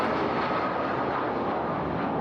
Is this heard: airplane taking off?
yes